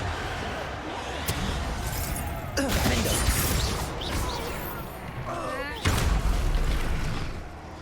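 The Bombarda blast spell goes off in Hogwarts Legacy, two loud booming bursts amid game noise, with voices talking alongside.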